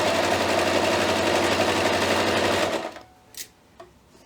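A sewing machine stitching robe fabric at a quarter-inch seam, running steadily and evenly for nearly three seconds, then stopping, followed by a few soft handling clicks in a quiet room.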